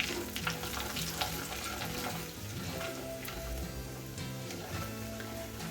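Garlic sizzling in hot oil in a pan while making eggplant curry, a steady close crackle that runs continuously, with faint stirring and no one speaking.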